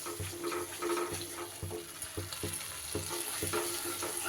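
Okra masala with sugar being stirred as it fries in oil, a soft steady sizzle under repeated scraping strokes of a spoon against the pan, fairly quiet with no voices.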